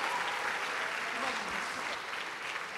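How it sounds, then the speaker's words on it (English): An audience at a Christian community hangout event claps steadily for a visiting group of learners, a broad wash of applause with some voices mixed in. "round of applause for DTI"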